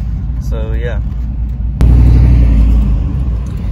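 A truck with its catalytic converters removed fires up its loud exhaust, a sudden heavy burst of deep rumbling roar that stays booming and close after a brief quieter moment with a short electronic tone.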